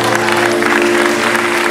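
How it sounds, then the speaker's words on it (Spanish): Wedding guests clap together in a sustained, dense burst of applause that stays steady and loud throughout, with a held tone humming underneath. "un aplauso por favor"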